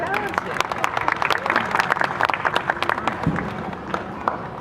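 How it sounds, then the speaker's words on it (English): Audience applause at the New York Aquarium, many hands clapping in a dense, lively patter, crowd voices mixed in, sustained for a few seconds. "how about a big round of applause for Diego?"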